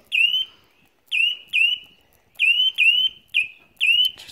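A Dock Lifeguard electricity alarm sounding in sharp, high electronic chirps, seven loud beeps in an uneven rhythm with short gaps, close and alone.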